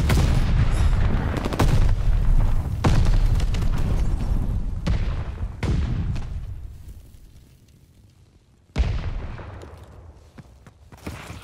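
Explosions and gunfire in Call of Duty: Vanguard, a grenade blast among several loud booming impacts with rumbling decay, a lull, then another sharp blast near the end.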